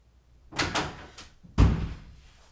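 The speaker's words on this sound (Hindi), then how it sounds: "दरवाजा खोलो" An indoor door is handled twice: a softer knock-like clatter, then a louder, heavier thud as it swings, close and with no voices.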